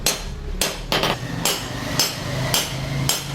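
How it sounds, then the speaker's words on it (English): Steady metal-on-metal hammer blows ring out at a forge as a blacksmith shapes a khukuri blade, striking in an even rhythm about every half second, close and loud over a low background rumble. "So much hammering."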